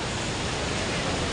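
Rushing water of the Saraswati river at its source near Mana village, a steady, dense roar filling the whole clip without pause, loud and close.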